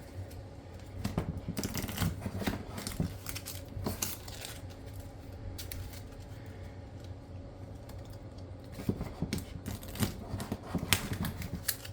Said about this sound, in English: Go ahead and shuffle my deck together.